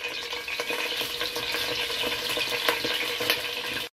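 Hot oil with saffron sizzles in a cooking pot while making Persian tomato rice with a chicken tahdig layer. The frying hiss is steady and close, with small crackles and pops and no voices.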